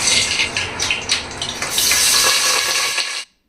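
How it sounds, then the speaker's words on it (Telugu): Bay leaves hiss and crackle in hot oil inside a pressure cooker for a mutton curry. A steady, close sizzle runs throughout, then cuts off abruptly at the end. "ఆయిల్ వేడైన తర్వాత 2 బిర్యానీ ఆకులు కూడా వేస్తున్నాను"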